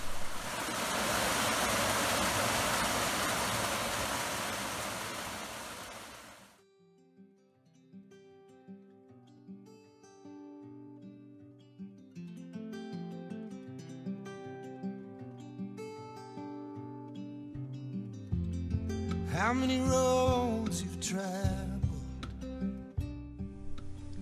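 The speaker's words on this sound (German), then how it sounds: "Hier entdecke ich hinter einer vermoosten Brücke einen kleinen, idyllisch versteckt liegenden Wasserfall." A small waterfall hidden behind a mossy bridge in a forest on the Kerry Way, Ireland, rushes steadily and fairly loudly for about six seconds before music takes over.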